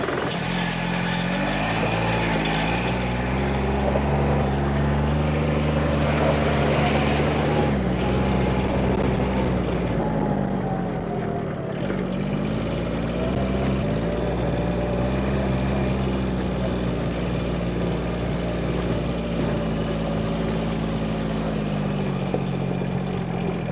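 A John Deere Gator HPX utility vehicle driven on a test drive after a primary clutch repair, its engine droning steadily and loudly the whole time with gentle rises and falls in revving, close to the listener, no talking.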